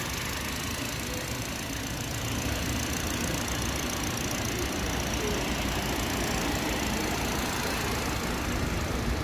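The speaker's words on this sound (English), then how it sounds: "So now we start the car engine to make sure everything is alright." A BMW X3 car engine idles with a steady, even rumble, moderately loud and close, with no voices.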